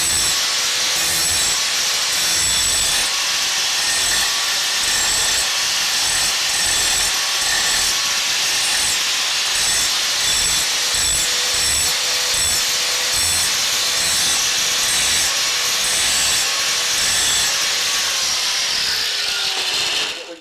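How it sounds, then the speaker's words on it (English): A hand file rounds the edge of a metal tube with a continuous series of rapid, rhythmic rasping strokes, loud and close, running steadily throughout with no talk. "Now I'm going to use a file and put a nice radius all the way around the edge right here so that we'll get a good weld fitment."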